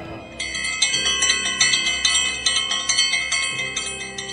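Bronze bell struck in a steady repeated rhythm, each clear metallic ring decaying into the next over a low droning background, loud and close with no voices.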